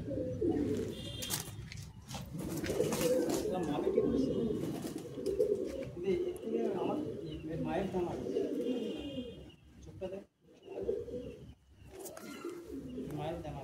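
Madrasi pigeons coo in low, rolling murmurs close by at a loft in Bagnan, while people talk over them for most of the time.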